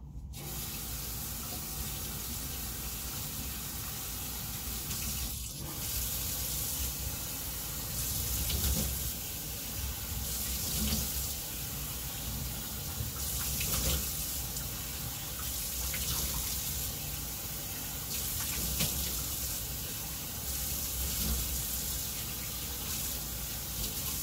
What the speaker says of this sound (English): Hold on, I'm gonna rinse.